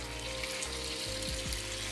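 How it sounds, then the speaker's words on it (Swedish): Chicken breast frying in oil in a wok, a steady close sizzle and crackle running without pause, with a couple of brief low clanks near the end. "Då var det dags att steka upp kycklingbröst."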